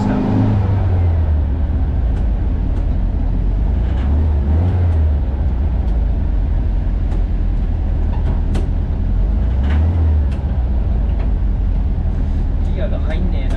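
The engine of a restored 1973 Volkswagen bus drones steadily while driving on the road, rising gently as it accelerates under a constant rumble of cabin and road noise, with people talking over it.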